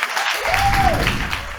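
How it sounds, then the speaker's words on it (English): A brief burst of dense audience clapping fills the room at the close of a talk on therapy and mental-health stigma, loud and continuous throughout. "Can we just get a huge round of applause,"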